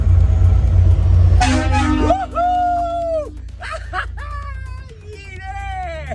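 Large dump truck blasting its loud air horn on a road, a long sustained honk with a short second toot, heard close by, with people talking and laughing afterward.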